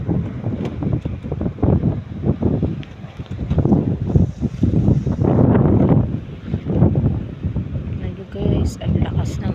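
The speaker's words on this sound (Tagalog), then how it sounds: "Lakas ng alon. Tapos sobrang lakas ng hangin dito." Strong sea waves and a heavy wind batter the shoreline, with gusts roaring across the microphone in a constant, rough wash. A person talks over the noise throughout.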